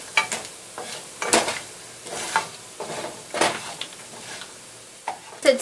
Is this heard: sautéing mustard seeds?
yes